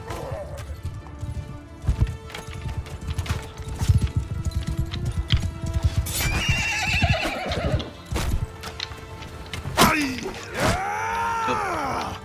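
Horses neigh and whinny amid clattering hooves and battle clamour in the video game Mount and Blade II: Bannerlord, with shrill rising cries near the end over a dense, busy mix, a voice talking at times.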